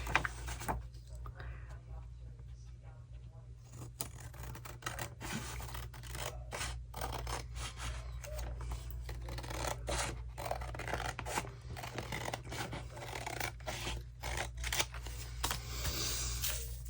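Scissors snip steadily through paper while envelope belly bands are cut out, a rapid run of crisp close cuts and rustles over a constant low hum.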